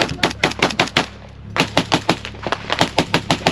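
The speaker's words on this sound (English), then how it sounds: "So that's when a lot of IDF and machine gun fire started opening up." Machine gun fire during an assault, loud and close, in rapid bursts of sharp cracks with a brief pause before another long rattling burst.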